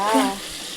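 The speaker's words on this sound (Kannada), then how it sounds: "5 ಮಿನಿಟ್ಸ್ ಹೀಗೆ ಫ್ರೈ ಮಾಡಿಟ್ಕೊಂಡು ಮಾಡ್ತಿದ್ದೀನಿ" Chicken pieces frying in oil in a pan give a steady close sizzle that holds briefly under a short voiced tone, then settles into a soft, even hiss.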